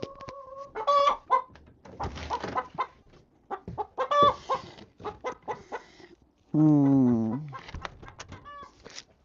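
Several hens cluck and squawk in bursts indoors around a nesting box, with one evicted hen giving a loud, drawn-out protesting call partway through amid irregular nearby clucking.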